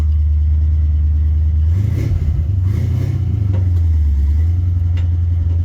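International Travelette truck pulling away, its engine loud and close with a steady low throb that swells as it revs and then settles back to a rumbling cruise.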